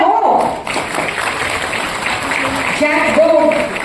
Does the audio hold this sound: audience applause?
yes